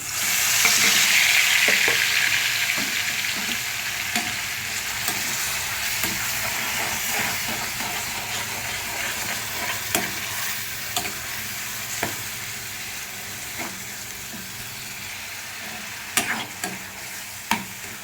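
Onions and green chilies fry loudly in a pan, a constant bright sizzle with scattered spatula scrapes and taps while stirring, gradually settling a little softer over time.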